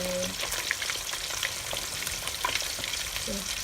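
Honey butter chicken wings frying in a pot give a steady, close sizzle and crackle throughout, with a few faint tonal clinks near the start and end.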